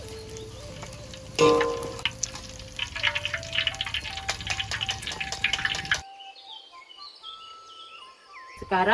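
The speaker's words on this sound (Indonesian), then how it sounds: "Goreng kerupuk, Lur." Kerupuk crackers fry in hot oil in a village kitchen, a dense crackling sizzle with a sharp burst of spatter near the start, running steadily close by before cutting off to quiet with faint drips.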